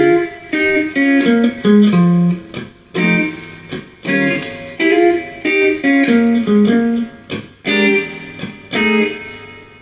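A guitar plays a short blues lick of bent, sustained notes in phrases separated by brief gaps, with a slightly gritty tone and no talking.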